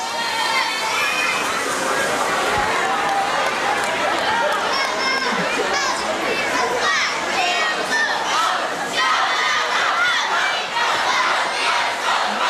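A packed high school basketball gym with a student cheer block shouting at the referee during a timeout, loud continuous yelling and chanting from many voices close by.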